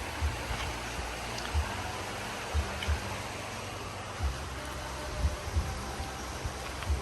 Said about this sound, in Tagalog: Ganda ng ilog, oh.